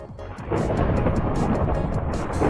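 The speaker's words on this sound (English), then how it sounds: "I don't know why it's thundering in the game." Thunder in the game Minecraft rumbles loudly and steadily, a dense, sustained roll that fills the whole stretch with no voices over it.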